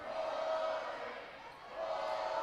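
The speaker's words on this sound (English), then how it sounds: "the Yellville crowd letting them know what they think of Flippin holding the ball here" A home basketball crowd at a district 2A tournament game in Yellville reacts as Flippin holds the ball, a sustained murmur of jeers and shouts that swells, dips, then rises again.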